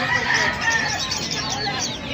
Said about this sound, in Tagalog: ang dami dito mga bantam